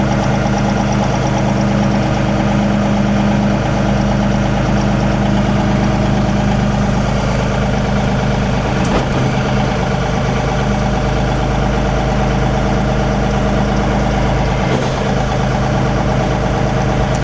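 A tractor engine idles steadily close by, a loud, constant low rumble with a faint mechanical rattle and no pauses.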